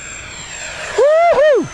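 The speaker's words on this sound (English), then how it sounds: "Sweet flying airplane." An E-flite SU-30 twin 70mm electric ducted-fan RC jet flies past, its whine rising to a loud, near peak, dipping briefly, then sweeping away, preceded by faint steady hum.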